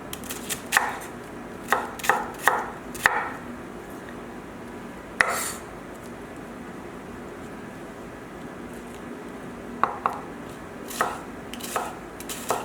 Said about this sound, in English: then I mince it